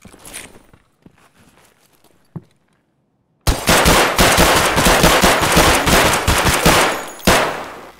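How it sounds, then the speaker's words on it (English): Gunfire in Escape from Tarkov. After a few quiet seconds with faint clicks, a loud burst of rapid automatic shots rattles on continuously for about four seconds, followed by one more sharp report. "Oh, I hear shots already?"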